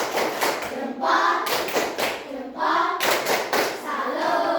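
A classroom group performs a rhythmic patterned clap, bursts of several quick claps separated by brief pauses, repeated in short sets, fairly close with a few voices faintly mixed in.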